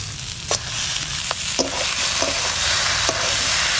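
Pieces of desi red chicken go into a pan with chili paste and fry with a continuous loud sizzle, punctuated by several sharp scraping clacks as a spatula stirs the meat.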